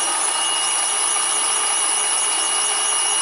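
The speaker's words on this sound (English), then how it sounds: "Using my trusty power feed, i.e. my drill." A hand drill serves as a power feed during a machining cut on a twin-cylinder paddle steamer type engine, giving a steady, loud high-pitched whine that holds without a break for the whole stretch.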